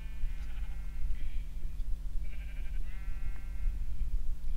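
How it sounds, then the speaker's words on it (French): Sheep in the game Minecraft bleat several times, short wavering calls over a steady low hum and light background noise, with no talking. "Vu qu'on a quelques moutons ici."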